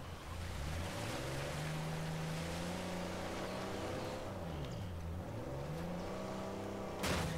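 A boat driving through water in Uncharted 4, engine tone rising and falling steadily over rushing water and spray, continuous, ending with a brief splash.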